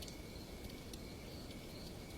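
Steady, continuous cricket chirping fills the air, a thin high trill that never pauses, with no voices.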